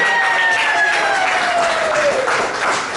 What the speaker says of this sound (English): Give Frank another round of applause.